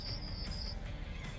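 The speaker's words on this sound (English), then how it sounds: "Cricket conversations." Crickets chirping in a nature-sounds recording played through the infotainment system of a 2024 Kia Sonet SX; a high, steady insect trill, briefly continuous then fading.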